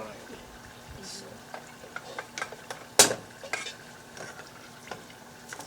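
Peppers and tomatoes fry in a pot for a Nigerian beef stew, a soft steady sizzle with scraping stirs and one sharp clatter of a utensil against the pot.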